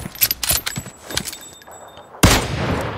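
Gunfire from the mobile battle-royale game PUBG Mobile rings out as a string of sharp, loud shots, then a heavy burst of noise near the end; nobody talks over it.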